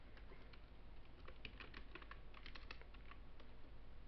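Rapid typing on a computer keyboard, a quiet stream of light clicking keystrokes heard close and alone, with no talking.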